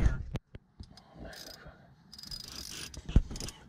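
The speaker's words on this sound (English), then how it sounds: "what he should do is put the ratchet on the other side so he can push down" A socket ratchet turning a nut on a Ford/Mazda M5OD transmission during a shift bushing replacement: close clicking pawl bursts and metallic rattling mixed with shop clatter, with intermittent sharp knocks.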